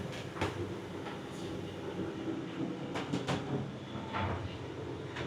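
An EuroCity passenger train carriage running with its window open, a continuous rumbling roll with wind rush and scattered sharp clicks and clacks from the track, moderately loud throughout.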